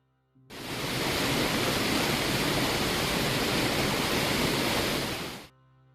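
An unused Minecraft waterfall sound: a loud, continuous rushing hiss of falling water that starts abruptly, holds steady for about five seconds, then cuts off cleanly.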